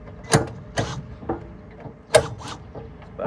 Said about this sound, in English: Back those head bolts out just a little bit.